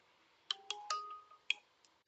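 A phone rings with an incoming call during a PS5 repair session, a few sharp electronic tones and clicks in a short patterned burst in a quiet room.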